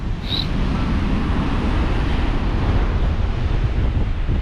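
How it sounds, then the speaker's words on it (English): Strong, constant wind gusting to 36 mph on Workington beach during Storm Lilian buffets the microphone, a steady low roar with surf churning underneath, no one speaking. "It is very windy. It's gusting to 36 miles an hour."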